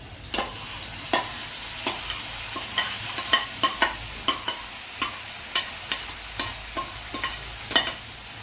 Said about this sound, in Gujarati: ને એની અંદર હવે આપણે મેથી નાખી દઈશું